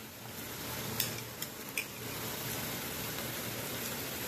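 Fried onions with ginger and garlic stirred in a pan for mutton chukka, a steady close sizzle with a few light clinks of the spoon against the pan, no voices.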